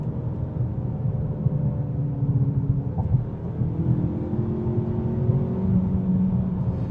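A 2019 Mazda 3 Premium FWD sedan driving with the gear held in sport mode, steady engine hum and road rumble with a rising and falling drone throughout.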